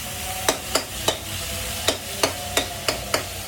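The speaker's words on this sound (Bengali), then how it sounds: "এটার মধ্যে কিন্তু কোনো ইয়া ছাড়াই ভাজি করছি" Onions, garlic and green chilies fry in a pan as a low sizzle runs beneath a steady series of sharp spatula scrapes and taps, about nine in all, with no talking.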